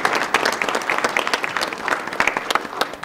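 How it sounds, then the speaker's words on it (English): Audience at a council meeting breaks into steady applause, dense clapping from a room full of people, close and continuous for a few seconds. "Let's give them a big round of applause."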